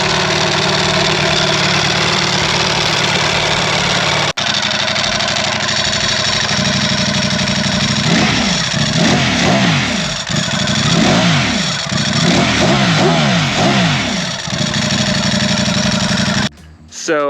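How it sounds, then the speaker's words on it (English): Ducati Panigale motorcycle with a titanium exhaust idling, then revved repeatedly in a series of sharp rising and falling blips, loud and close, before cutting off abruptly. "So I'm sure you guys heard the difference between the full titanium exhaust system with a flash and the stock system."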